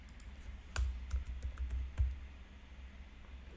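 Key clicks on a computer keyboard as JavaScript code is typed, a quiet irregular run of taps with a few sharper strikes, close and alone without talk.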